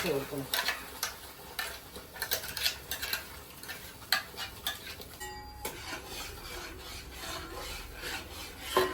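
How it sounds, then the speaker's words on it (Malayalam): Grated carrot stir-roasted in ghee in a heavy uruli pot, with a steady scraping and rasping of a spoon against the pan bottom over a soft frying sizzle, close and continuous throughout. "അല്പം നെയ്യ് ഒഴിച്ചു കൊടുത്ത അടുപ്പിൽ അരച്ച് വെച്ച കാരറ്റ് ഒഴിച്ചു കൊടുത്തു അല്ലേ"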